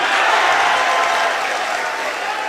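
An audience at a Hindi poetry recital claps in a dense, steady wash of applause that holds strong, then eases slightly toward the end, with no clear voices over it.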